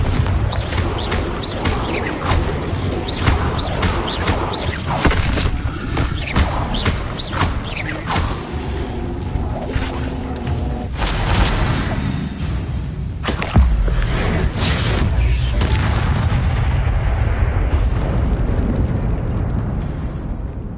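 A fire blast spell bursts in Hogwarts Legacy, a loud, dense roar of crackling explosions and booming thuds that runs almost without a break, with several heavier impacts.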